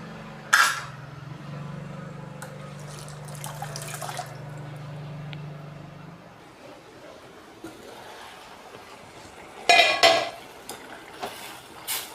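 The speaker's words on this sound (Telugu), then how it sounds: "కొంచెంసేపు మూత పెట్టుకుందాం" A lid placed on a cooking pot of tomato dal, a sharp metallic clatter near the start and again near the end, with quiet bubbling and faint kitchen sounds between, no talking.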